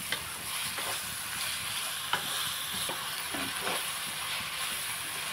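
Ivy gourd and green chillies being stirred in a pan, a steady frying sizzle with soft intermittent scrapes and clicks of the spoon, close and continuous with no talking.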